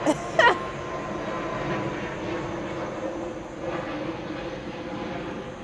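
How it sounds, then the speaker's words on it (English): An airplane passes overhead outdoors, a steady distant engine drone that holds for several seconds, with faint voices and a brief sharp noise at the start. "Every day we got the planes. You guys see the plane?"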